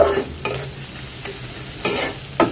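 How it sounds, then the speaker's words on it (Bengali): Onions sizzle steadily in a pan with a bay leaf while a utensil stirs them in a few brief scraping strokes. "তো ঠিক আছে পেঁয়াজটা একটু ভাজা হোক"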